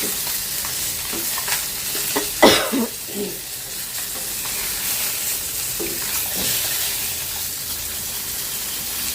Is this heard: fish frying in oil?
yes